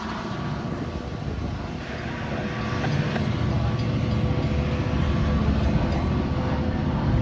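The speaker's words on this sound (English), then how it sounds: "we just watched Metra Milwaukee District West train number" Metra Milwaukee District West commuter train rolls past in Bensenville, Illinois, a broad steady rumble and rush that swells slightly louder as it goes by.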